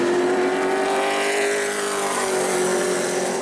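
Pro late model race car at New Smyrna qualifying, its engine holding a loud, steady high-pitched drone at speed throughout with a slight pitch sweep, no talk over it.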